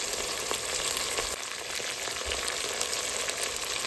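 Big onions fry in oil for mutton biryani, a steady close hiss of broadband crackle that runs unbroken through the whole stretch, with a few soft low bumps from the pan and no voices.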